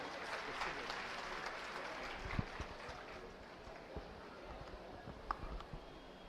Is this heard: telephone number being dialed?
no